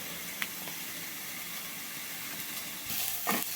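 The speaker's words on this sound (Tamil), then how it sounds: "ஆனியன் வந்து நல்லா வதக்கிக்கோங்க, நல்லா ப்ரௌன் கலராக வரட்டும்." Chopped onions sauté in hot oil in a pan for a paneer gravy, a steady soft sizzle with occasional stirring scrapes, close and fairly quiet, louder and busier near the end.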